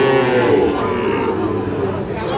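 Sahiwal cattle low and moo amid the busy bustle of a cattle market at Ambari Haat in Dinajpur, with a steady crowd murmur running underneath throughout.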